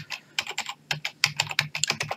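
Quick typing on a computer keyboard, a close run of light, irregular key clicks with no voices.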